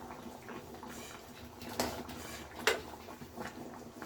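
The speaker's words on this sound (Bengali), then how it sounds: "এইভাবে নাড়ছি।" Chana dal frying in a pan for cholar daler halwa, stirred from the bottom up so it does not stick; quiet, soft scraping with a couple of sharper spoon scrapes against the pan.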